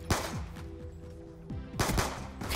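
Rapid automatic gunfire in Call of Duty: Black Ops II, a dense rattling burst of shots that eases off briefly before a loud renewed volley.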